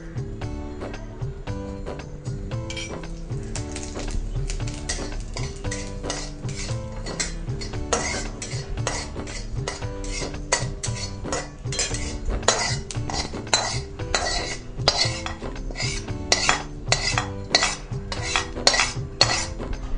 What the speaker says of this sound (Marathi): जेवढं भाजून घ्यायचं होतं, परतून घ्यायचं होतं तेलावर, तेवढं सगळं झालेलं आहे